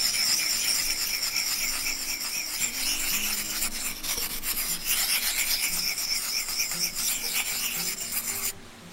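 A knife blade is sharpened on the fine side of a wet whetstone outdoors in a forest. It makes a steady, close, continuous rasping scrape of repeated strokes that stops abruptly at the end.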